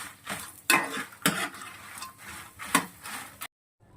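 Cumin, coriander seeds and dried chillies are dry roasted in a pan, with a few sharp scraping strokes of the spatula over a light rattle of seeds before everything falls silent.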